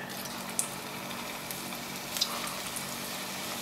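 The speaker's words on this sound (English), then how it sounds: "Just going to let them fry here" Pieces of kue bawang, an Indonesian snack, frying in hot oil: a steady, even sizzle holding throughout, with a couple of faint pops and no voices.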